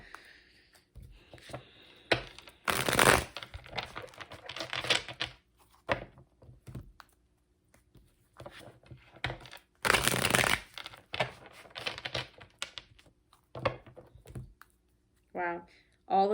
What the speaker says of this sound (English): all the cards that are coming up as I'm splitting the deck to shuffle them